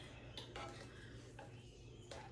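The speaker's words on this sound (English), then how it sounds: "just gonna stir it around like so" Pasta coated in parmesan and sauce, with rapini and sausage, being stirred in a pan: soft scraping and a few light utensil clanks against the pan, quiet and close.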